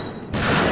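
A burst of gunfire in a fighting video game comes in abruptly partway through as a dense, loud rattle of rapid shots and fills the rest of the short moment.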